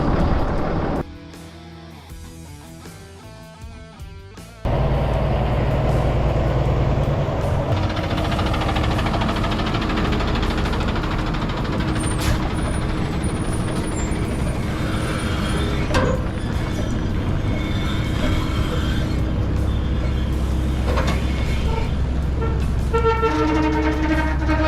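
A truck engine runs and rumbles steadily as the vehicle pulls out of a job site, loud and continuous with mechanical rattles and a brief toot.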